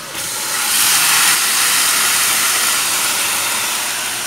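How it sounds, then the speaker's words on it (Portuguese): Pork ribs frying in a pan give off a loud, dense, continuous sizzle and hiss close by, swelling slightly and then holding steady with no talking. "agora eu já vou começar a fritar aqui a costelinha de porco"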